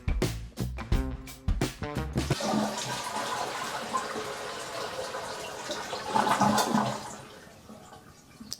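A household toilet flushes to drain its bowl: a few sharp clicks and handle rattles, then a strong rushing swirl of water that fades into a gurgling refill, close and clear with no talking.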